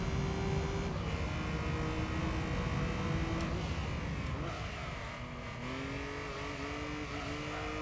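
A race car engine in Gran Turismo drones loudly and continuously, its pitch rising and falling through gear changes, briefly dipping before climbing again.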